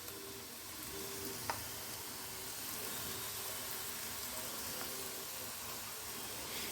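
Besan and semolina chakli (murukku) deep-frying in hot oil, a steady, soft bubbling sizzle that fills the whole stretch, with a couple of faint clicks and no speech.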